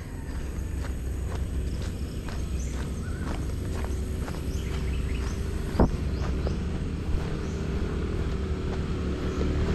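Steady footsteps on a walk toward the Samal bridge construction site, with regular close steps over constant background rumble of distant traffic and a few sharp knocks.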